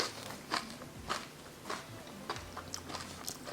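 Close, crisp crunching bites into an air-fried hash brown patty, about six sharp crunches spaced roughly half a second apart with quiet chewing between, no voices.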